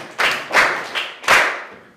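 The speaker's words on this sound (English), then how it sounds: "Clap for her!" Schoolchildren clap in unison for a fellow student, four firm claps spaced evenly with a slight pause before the last, close-up and free of speech.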